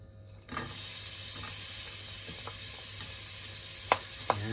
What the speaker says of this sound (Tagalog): Ako pag nanggigisa ako, inuuna ko ang sibuyas para hindi masunog ang bawang.